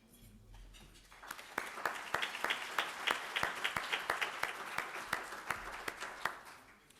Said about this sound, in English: can you please stand just for a round of applause